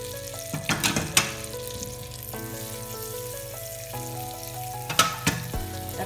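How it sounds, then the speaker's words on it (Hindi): Butter sizzles in a hot kadhai being heated for tempering, a steady crackling fry with a few louder clattering stirs or scrapes of the pan near the start and end. "कढ़ाई गर्म करेंगे, इसको छौंक लगाने हैं हमें।"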